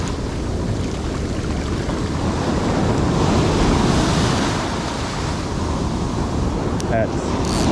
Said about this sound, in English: the waves will just sweep that thing right on by